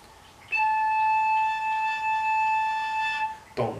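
A koncovka, an open overtone flute, sounds a single sustained high A5 for about three seconds, a steady breathy tone with stacked harmonics, followed by a brief noisy breath at the end.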